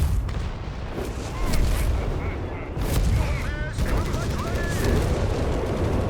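Sturmpanzer artillery in Company of Heroes 3 keeps firing in a continuous barrage of dense booms and gunfire on a battlefield, loud throughout, with caster commentary running over it.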